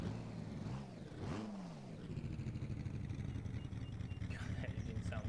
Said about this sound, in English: that engine sounds so amazing